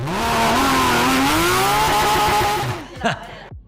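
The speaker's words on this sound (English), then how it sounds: "When you fire up the car now, you hear the new exhaust system, the sound, it's a pure race car sound." A Porsche 718 Cayman GT4 RS Clubsport race car engine roars loudly through its new exhaust, revving up with a deep raspy note, then cuts off abruptly, leaving a couple of brief knocks.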